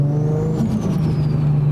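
A warm car engine idles and revs steadily at a crowded car meet, a loud, continuous low rumble with a faint rising whine, close by and with no talking over it.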